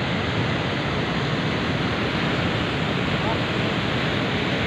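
Heavy surf rolls in at Karapyak beach in Pangandaran, West Java, as a dense, unbroken roar of crashing and churning water, loud and close, with wind rumble and no clear voices.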